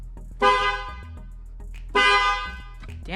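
A GM car horn fitted as an upgrade to a Jeep Cherokee XJ gives two loud, close blasts, each about a second long, over a low idle rumble.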